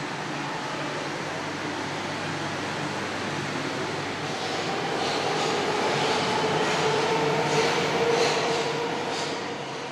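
A Tehran metro train runs on a straight underground line, a steady loud rumble heard from inside the car with a faint rising whine partway through, no voices.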